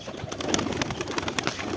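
Giribaz tumbler pigeons coo steadily up close, several birds overlapping in a dense, continuous murmur with brief brighter calls and flutters throughout.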